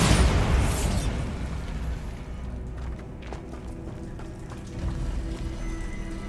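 A Bombarda exploding spell goes off in Hogwarts Legacy with a loud booming burst that decays into a long crackling, rumbling tail, with a smaller second swell near the end.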